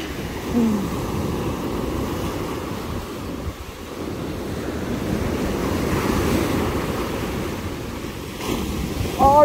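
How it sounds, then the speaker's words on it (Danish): Ocean waves and wind on a Danish North Sea beach near Hvide Sande and Søndervig, a continuous roar of surf with gusts buffeting the microphone and a few faint sounds near the end. "Og nogle bølger, der er."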